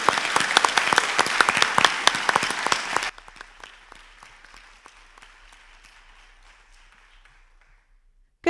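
A book launch audience applauds Bernice with loud, dense clapping that abruptly drops to a thinner, quieter scattering of claps and fades out over several seconds.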